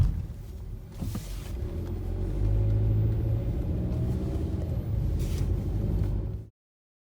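A truck drives along a residential street in Watts, California, its deep engine rumble steady and fairly close, swelling slightly as it nears and then cutting off abruptly.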